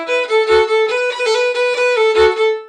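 A wind instrument melody plays a roll ornament and then a grace note, giving a sustained bright tone that is cut by quick articulated flicks. It is close and sounds alone.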